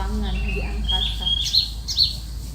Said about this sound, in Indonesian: pasukan Abraha dihadang oleh ribuan burung-burung ababil yang berterbangan di angkasa